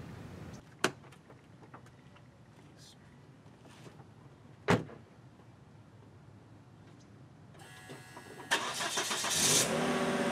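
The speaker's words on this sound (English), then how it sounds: "go ahead and start your vehicle and slowly climb up the ramp using a steady acceleration" A vehicle starts, then its engine revs steadily as it climbs onto Rhino Ramps, with a few thuds early on and the engine noise rising loudly over the last few seconds.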